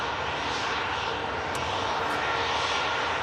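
An Austrian Airlines Airbus A320 airliner rolls for takeoff, its engines giving a steady, loud broadband roar that holds evenly throughout with no talking.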